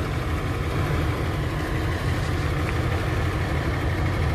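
A Nissan Skyline Kenmeri with an L-type engine idles nearby, its carburetor and muffler producing a loud, steady, even rumble with a breathy intake and exhaust hiss that continues without a break.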